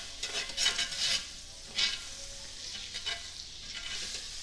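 Butter and olive oil sizzling in a preheated cast iron skillet, a soft crackling fry with a few brighter spits and stirring scrapes, fairly quiet and close, no talk.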